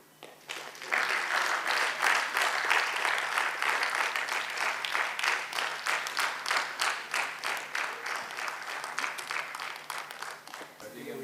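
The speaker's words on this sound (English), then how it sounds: "Big round of applause to Dr." Conference attendees at IAESCON 2022 clap for a speaker, a sustained round of applause lasting around ten seconds and gradually thinning into uneven, rhythmic claps toward the end.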